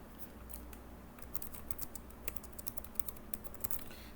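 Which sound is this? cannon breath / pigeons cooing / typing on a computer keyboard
typing on a computer keyboard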